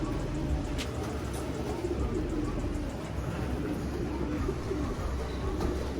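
Racing pigeons cooing during a first release toss, soft repeated coos and faint chirps over steady outdoor background noise, with people talking nearby.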